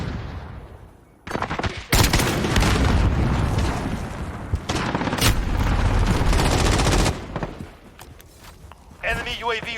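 Rifle gunfire from an SKS in Call of Duty Modern Warfare, loud dense bursts of shots and booms filling most of the stretch, with in-game voices and combat noise between them.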